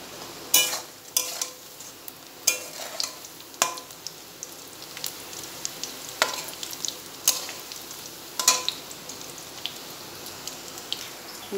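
Egg fritters fry in oil with a soft continuous sizzle, broken by repeated sharp clicks and clatters of a utensil against the pan at irregular intervals, heard close with no talking.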